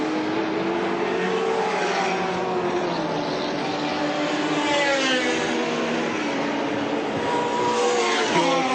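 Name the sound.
touring race cars racing at Lakeside Raceway, 1984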